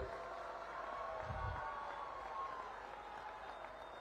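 Crowd at a political rally in Vasai clapping together, a faint, distant, steady wash of applause with a little crowd murmur throughout.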